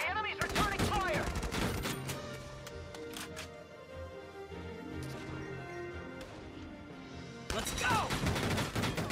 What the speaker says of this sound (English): The enemy's returning fire!